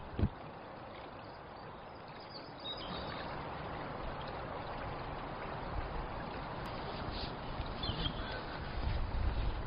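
A quick-flowing river in a Yorkshire woodland in spring, giving a continuous close rush of water that grows slightly louder toward the end, with no talking.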